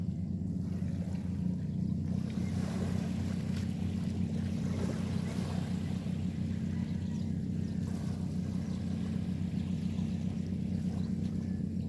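Steady, continuous rumble of sea water and surf with a low droning hum throughout, unbroken and even in loudness.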